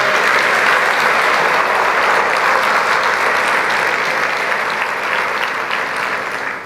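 A church congregation claps for the Lord during a service, a loud, dense, sustained round of applause that holds steady throughout and fades slightly at the end.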